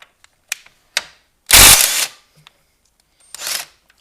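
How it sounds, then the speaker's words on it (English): An impact gun works bolts loose on a Ford Fiesta ST engine during an oil catch can install, giving a few short rattling bursts with one long loud burst in the middle and a final burst near the end, each separated by quiet. "I'm using an impact gun just to kind of speed up the install"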